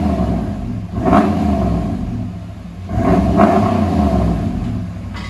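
Two strong revs from a RAM 1500 pickup's 5.7L HEMI V8 through an aftermarket exhaust muffler, each surging then falling back to a deep, loud, nearby idle rumble, with no talking.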